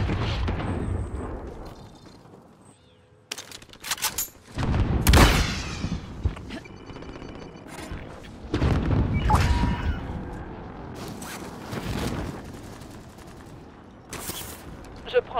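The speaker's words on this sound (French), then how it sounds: "Je me prends des balles de l'ennemi" Call of Duty Warzone gunfire comes in heavy, irregular bursts of shots and booming explosions, loud at times and briefly quiet between volleys, with game voices mixed in.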